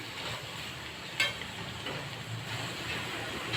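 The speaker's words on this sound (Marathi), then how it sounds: "मी त्याचं सगळं हलवून घेते" Bitter gourd curry sizzles in a pan as it is stirred, a steady close frying hiss with a single brief clack of the spoon.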